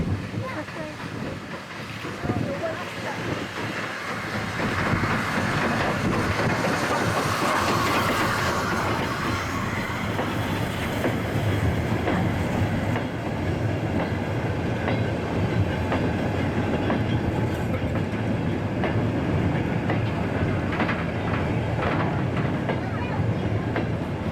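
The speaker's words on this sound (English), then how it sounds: "there's a train coming" A train rumbles past close by on the Great Central Railway, a steady heavy roar with rhythmic rail clatter, and a voice speaks briefly beneath the noise.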